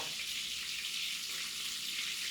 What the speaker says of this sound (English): all I want to do is just saute it down a little